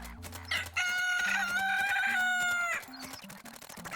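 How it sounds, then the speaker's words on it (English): A game rooster crows once in a synthetic chicken-farm setting, a loud drawn-out cock-a-doodle-doo over a couple of seconds, with lighter game clucks and beeps around it. "Another rooster."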